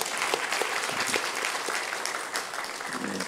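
A church congregation claps together in a dense, steady round of applause filling the room, without voices over it.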